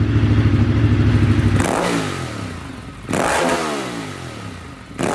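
A Ducati Multistrada sport touring motorcycle engine idles steadily, then blips through sharp revs twice with a rising and falling pitch, close by and loud, with no talking.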